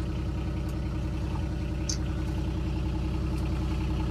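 A Corvus DX4 Pro EPS farm buggy engine runs steadily at close range, a continuous mid-low mechanical drone with a faint rattle and no voices.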